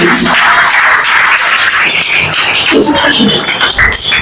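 Crowd applauding a graduate at an Independence Day community ceremony, loud dense clapping that fills the whole stretch with some crowd shuffling and murmur mixed in.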